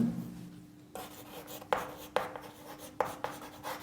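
Handwriting during a physics lesson, with a pen or chalk scraping in short separate strokes, several sharp onsets spread over a few seconds, near and fairly clear over a quiet room.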